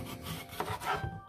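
A kitchen knife slices a vegetable in half during a cooking lesson, a short, quiet scraping cut with a couple of soft rubbing strokes against the board.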